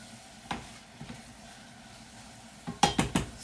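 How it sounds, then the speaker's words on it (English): Onions cook in a pan over medium-low heat with a faint low sizzle, broken by a few sharp metallic clinks of a utensil stirring, the last three in quick succession, close and with no talking. "And the fragrant onion cooking out"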